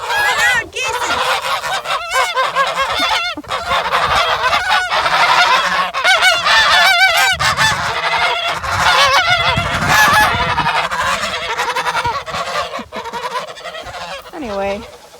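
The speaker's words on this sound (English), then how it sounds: "These guys are new, and they are loud. They're loud geese." New geese in a farm goose pasture honk loudly and repeatedly, overlapping in raucous bursts for the whole stretch, close to the listener with no talk over them.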